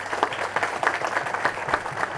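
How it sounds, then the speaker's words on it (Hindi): An audience claps for a startup gathering in India, giving brisk, fairly close applause with distinct individual claps standing out in a steady uneven rhythm for a couple of seconds. "एक बार ज़ोरदार तालियां फिर अपने लिए"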